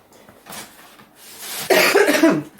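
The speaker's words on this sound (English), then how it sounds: "Excuse me, I'm still coughing." A woman coughs indoors at close range: a couple of soft throat sounds, then a loud, harsh burst of coughing near the end, with no speech.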